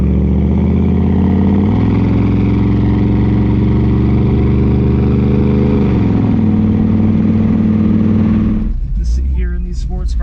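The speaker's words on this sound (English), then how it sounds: "It's got an awesome sound. Get that nice choppy idle that you like." A modified 302 V8 in a 1968 Ford Mustang GT with an Offenhauser intake and a cam idles loud and close with a lumpy, choppy rumble, its pitch shifting slightly, before voices break in at the end.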